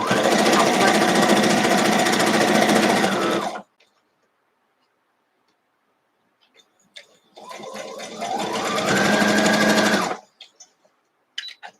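A sewing machine stitches string-pieced quilt blocks in two loud, steady runs of rapid stitching, separated by a pause with a few small clicks and taps.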